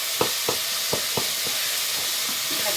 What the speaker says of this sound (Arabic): هوني في الطنجره حطيت راس بصل مع شويه لحم مفروم كيف ما تشوفوا، وقاعده نقلب فيه